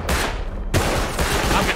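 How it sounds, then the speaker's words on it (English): Gunfire in the survival video game Rust, a dense, continuous volley of loud shots near a supermarket, with a sharp burst about halfway through and no pauses. "I'm getting shot at. From inside the supermarket."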